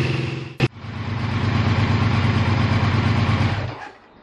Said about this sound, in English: she's running and idling absolutely beautifully. As you can hear, it is absolutely silky